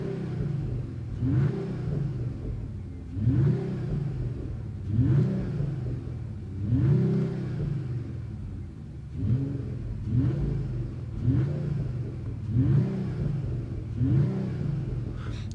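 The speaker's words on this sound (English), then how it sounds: "And you can instantly hear the engine and race." A Mercedes-AMG CLE53 Cabriolet with its 449 hp engine is revved repeatedly from a standstill, about eight rising and falling blips in a steady rhythm, close and prominent with no talking.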